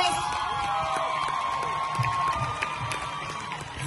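An audience at a live concert claps and cheers continuously with whoops, a steady moderately loud crowd din.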